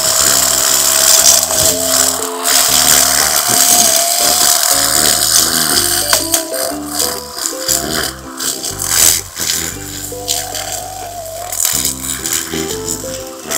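Makita MUR012GZ cordless electric brush cutter with a Jet Fit nylon head and 7 mm Techni Blade line, running at level 1 medium speed: a loud, close, continuous buzzing whir with a rattling edge that swells and dips as the throttle shifts.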